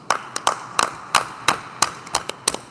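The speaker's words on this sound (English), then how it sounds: "Golf clap." A single person gives a slow, sparse golf clap, about ten light, close claps spaced unevenly over a quiet background with no talking.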